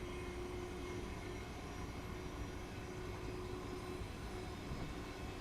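A V-set train running in Train Simulator Classic, a steady low rumble with a constant hum and even rolling noise throughout, no voices.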